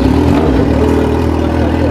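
A Yamaha XJ6 motorcycle engine runs loud and close, a steady mid-pitched roar with a brief rev near the start, heard alone without speech.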